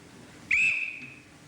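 A single sharp whistle blast, shrill and steady, rising suddenly and trailing off over about half a second, fairly close against a quiet background.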